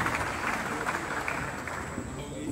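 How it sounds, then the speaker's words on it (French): An audience at a Baptist convention in Haiti applauds a campaign chief, with sustained loud clapping throughout and voices mixed into the crowd noise. "Je demande à l'assistance de l'applaudir très fortement pour vous"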